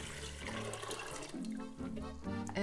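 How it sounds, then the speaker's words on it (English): Water poured into a pot of beans, a close, steady gushing splash with rising gurgling tones as the pot fills, fairly quiet and without talk. "Add 5 cups of water,"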